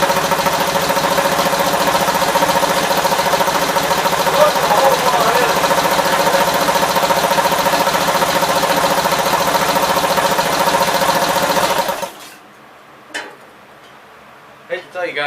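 Built 450 engine idling on its first run with a carburetor fault, a steady loud rumbling drone with faint knocking that runs for about twelve seconds, then cuts out abruptly to near silence with a few faint clicks and sputters.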